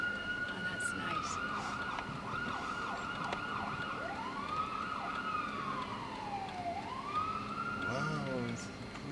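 A police car siren wails in the distance along a town street, its tone sweeping up and down in long, rising and falling glides over steady background traffic noise.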